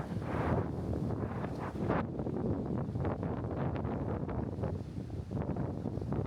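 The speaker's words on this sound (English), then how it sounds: "Oh, it's windy." Strong wind buffets the microphone at a bay beach, a loud continuous roar with gusty swells and no speech.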